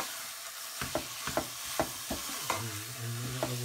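Spices are stirred into paella in a sizzling pan, a steady frying hiss under repeated rhythmic scrapes and clacks of a spoon against the pan, close and without speech.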